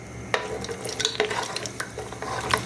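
Cashew nuts and raisins frying together in oil left from browned onions, a low crackle under several sharp clinks and scrapes of a utensil against the pan, close and fairly loud.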